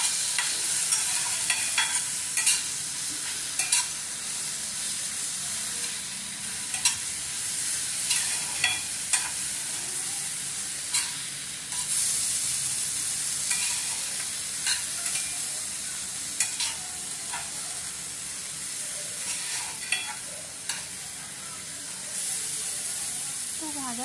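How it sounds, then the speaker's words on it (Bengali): Coriander and mint leaf paste fries on low flame in a pan for a mint veg pulao, with steady close sizzling and repeated scraping stirs throughout; no one speaks. "ধনে পাতা পুদিনা পাতার মিক্সচারটা দেওয়ার পর এটা মিনিমাম 4 থেকে 5 মিনিট নাড়তে হবে"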